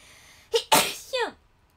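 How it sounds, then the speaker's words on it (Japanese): A single close sneeze, with a quick breathy build-up followed by a sharp burst, heard in an otherwise quiet indoor setting. "くしゃみでそう。"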